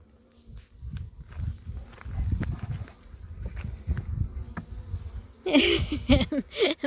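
Honey bees buzz during a hive inspection, a soft, steady drone with scattered rustles and handling sounds, rising to louder, close buzzing near the end.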